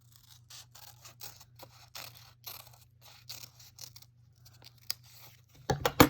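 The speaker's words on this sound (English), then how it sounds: "So I'm going to cut another shape out." Scissors cutting a shape out of paper close by, a run of quiet crisp snips and rustles in uneven rhythm, ending with a louder burst of paper handling.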